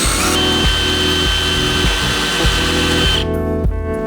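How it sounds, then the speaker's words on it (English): A power drill bores into the end of a clamped wooden dowel, a loud sustained motor whine with rhythmic grinding pulses as the bit bites into the wood, stopping abruptly near the end. "Next we're going to take our drill and drill into the end of this."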